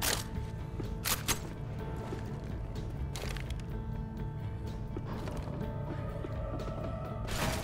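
Mechanical clicks and ratcheting clatter of a weapon being reloaded in the zombie shooter Left 4 Dead 2, several sharp metallic snaps spaced out over a steady background din.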